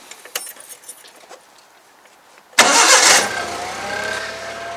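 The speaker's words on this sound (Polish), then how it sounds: "a więc uruchamiamy sobie wózek" A forklift truck's engine starting up during a practical operator exam: quiet clicks and handling sounds, then a loud crank and catch at about 2.6 seconds that settles into a steady, close idle.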